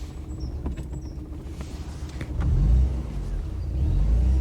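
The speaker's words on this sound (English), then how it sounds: "This car's driven perfectly and then, there we go, cut out." A car engine idles roughly at low volume, struggling and faltering, then surges into a heavier rumble for a few seconds before settling again, with no talking.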